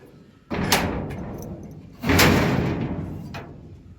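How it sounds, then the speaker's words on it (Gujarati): A wooden door is pushed shut twice at a rural cattle-herder's home in Gir, Gujarat, each close a loud thud with a scraping rattle that fades over a second or so. "હવે આપણે દરવાજો દઈ દઈએ"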